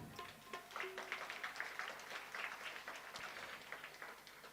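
An audience at a Manas devotional gathering in Chilhati, Kanker, claps hands in a steady, diffuse patter that continues for several seconds, fairly quiet and even, with a faint tonal sound briefly in the background.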